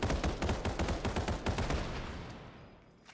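Repeated gunshots crack in fast succession during a Final Fantasy VII: The First Soldier match, a steady burst of shots that thins out and fades toward the end, with no talking.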